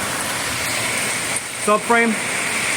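Rain falling outdoors while a man works on a Honda Civic Si, replacing the clutch: a steady, even hiss throughout, with someone speaking briefly over it near the end.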